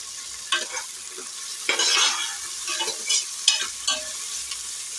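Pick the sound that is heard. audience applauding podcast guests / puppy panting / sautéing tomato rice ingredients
sautéing tomato rice ingredients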